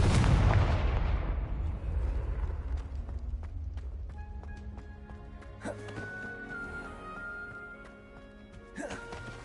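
A Confringo spell is cast in the video game Hogwarts Legacy, opening with a loud booming blast that rumbles and decays, followed by scattered sharp clicks and magical chimes.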